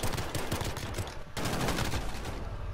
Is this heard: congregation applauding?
no